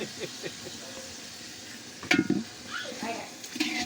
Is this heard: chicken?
yes